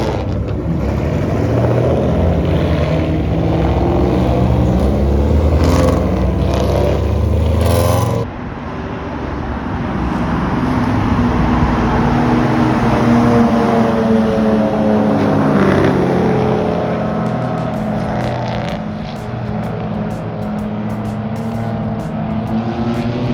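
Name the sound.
race cars at start of endurance race at VIR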